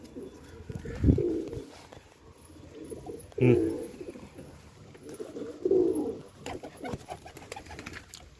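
Close pigeons cooing in low, throaty bursts, three distinct coos spaced a couple of seconds apart, with light rustling between.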